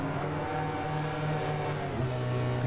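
A BMW HP2 Sport motorcycle engine in the racing game RIDE 4 on PS5 drones steadily at high revs on a wet track, a dense, continuous mechanical roar with slight pitch shifts and no talking.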